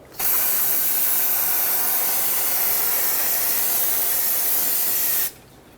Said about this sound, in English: I'm going to spray it down with brake parts cleaner to rinse it all.